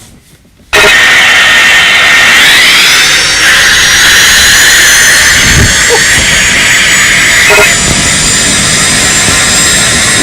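Boeing 747 jet engines in a flight game give a loud, steady roar with a high whine, running continuously for several seconds after a brief quiet start.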